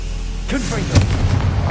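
A Confringo spell from Hogwarts Legacy bursts out as a booming blast with a sharp crack, followed by crackling pops and a rumbling tail, with a voice heard just before it.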